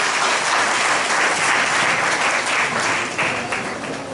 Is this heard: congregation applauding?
yes